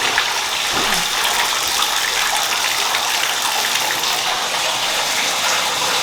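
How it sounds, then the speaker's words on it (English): A bathtub filling with water for a pet snake to soak in, a loud, steady rushing gush from the tap that continues unbroken throughout. "we're gonna fill up the bathtub and let this guy swim around for 20-30 minutes."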